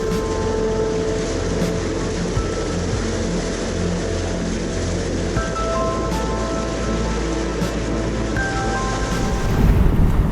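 A cruising boat under way crosses the bar at Tin Can Bay on flat water, with a steady, loud, unbroken engine drone and wash rumbling throughout and no voices.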